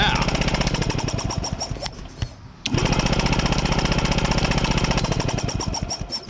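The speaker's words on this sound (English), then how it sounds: "Let's ground out this wire, starter wire, see if we get spark." An engine cranks over in rapid, steady pulses as the starter wire is grounded, loud and close, with a brief break midway before the cranking resumes.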